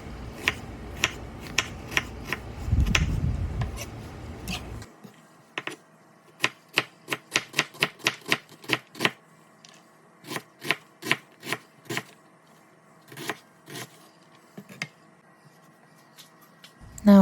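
Knife chopping zucchini on a cutting board for risotto, with a brief dull rustle, then a close run of crisp, quick, evenly spaced taps that speed up, pause, and resume in short bursts.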